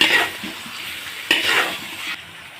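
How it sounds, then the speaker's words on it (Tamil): Eggplant and carrot sauté in hot oil in a pan, a soft sizzle with scraping stirs of a spoon, one sharper clink partway through. "அப்புறம் எண்ணெய் காயிலே வதக்குங்க, கத்திரிக்காயும் கேரட்டும்."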